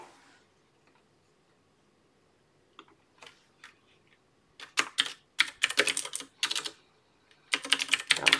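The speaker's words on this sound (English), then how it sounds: "I'm actually on my keyboard right now." Keys clatter on a computer keyboard in a run of quick, close taps, starting sparse and faint, then building into dense bursts of typing toward the end.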